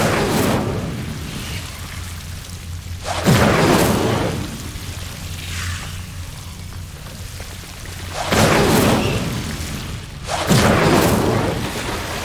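Hogwarts Legacy fire spell Incendio cast repeatedly, each a loud whooshing roar of flame that swells and fades, with several bursts spaced seconds apart over a low rumbling game ambience.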